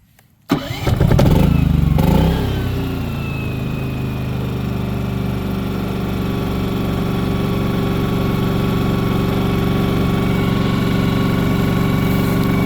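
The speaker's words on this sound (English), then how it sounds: "So I should just be able to press this in and it'll start up." A Firman tri-fuel generator engine cranks and catches after a moment of quiet. It roars loudly as it starts, then settles into a steady, close idle hum.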